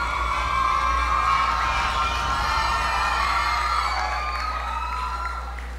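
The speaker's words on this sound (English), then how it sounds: "give her a round of applause" Graduation audience in a school hall cheering and whooping for an award recipient, a loud sustained crowd roar with shouts that fades slightly at the end.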